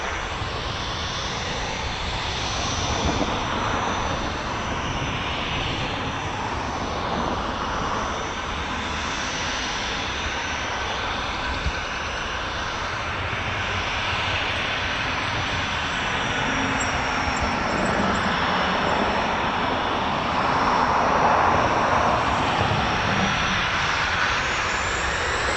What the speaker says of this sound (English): Here we go, a flight of 3 coming up.